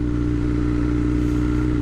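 A 2021 BMW S1000R motorcycle with a race pipe rides slowly in a high gear, its exhaust a steady, loud, close-up drone that holds an even note without a pause.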